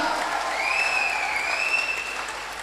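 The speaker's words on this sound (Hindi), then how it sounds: "जोरदार ताली है, जोरदार ताली, पूरा चिल्लम चिल्ली हो" Loud sustained applause at a business achievers training event, dense clapping with a long high whistle or shout rising over the crowd.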